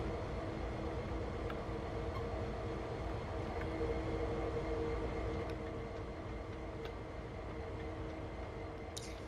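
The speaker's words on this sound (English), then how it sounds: "Let's see if the train will ever crash." A train runs in Train Sim World 2, giving a steady rumbling drone with faint clicks and rail ticks throughout, quiet and continuous, with no talking.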